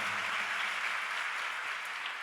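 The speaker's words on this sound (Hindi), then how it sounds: "और बिल्कुल अच्छे ढंग से ताली बजाओ।" Devotees at a Jain religious discourse in Jabalpur applaud together, a steady, dense wash of many hands clapping at moderate distance with no talk over it.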